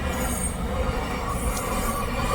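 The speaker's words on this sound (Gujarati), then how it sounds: "અને એક ભાઈ માલગાડી નીકળી છે, ફાટક આવ્યા છે." A goods train rolls through a railway level crossing, producing a loud, continuous close rumble with grinding wheel squeal throughout and no speech.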